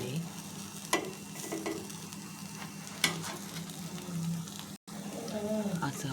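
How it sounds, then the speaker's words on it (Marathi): An egg paratha with cheese frying in a pan over a low gas flame gives a steady soft sizzle, broken by a few sharp clinks and scrapes as it is handled. "अशा प्रकारे आपला एक पराठा स्लो गॅसवरती आपण फ्राय करायचा आहे."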